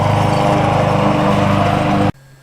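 Lawn mower engine running loud and steady with a constant droning hum for about two seconds, then cutting off abruptly into near silence.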